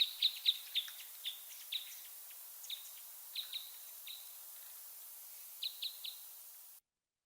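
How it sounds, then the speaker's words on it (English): A series of sharp, twangy type 5 red crossbill call notes, repeated in loose clusters at a moderate distance against a quiet background. "here is what type 5 sounds like"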